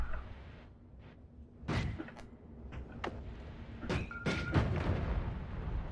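Bomb spell blasts in the video game Noita, heard as a few sharp, fairly close thuds and bursts scattered across a busy game soundscape with no talking.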